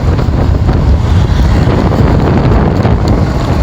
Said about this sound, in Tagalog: malakas yung hangin kasi nga merong bagyo